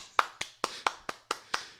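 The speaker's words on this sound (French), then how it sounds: "je l'applaudis" One person claps alone at home in a small studio, giving seven sharp, evenly spaced hand claps in quick succession, close and fairly quiet.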